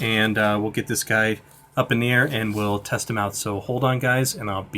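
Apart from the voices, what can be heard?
No everyday noise stands out behind the speech.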